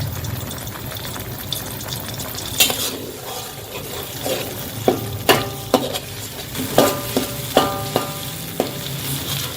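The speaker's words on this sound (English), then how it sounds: "I'm going to increase the flame now to medium and fry this until it becomes fragrant" Steady sizzling of fiddlehead fern shoots frying in a pan over medium flame, with occasional scraping and clinking of a utensil stirring against the metal.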